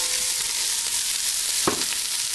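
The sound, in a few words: vegetables sizzling as they go into the gumbo pot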